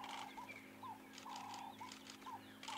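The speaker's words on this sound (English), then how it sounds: "We've got doves calling in the background." Ring-necked doves, also called Cape turtle doves, call repeatedly in short rhythmic phrases from the background of a quiet sunrise in the Sabi Sand bush, with other birds chirping and a steady low hum beneath.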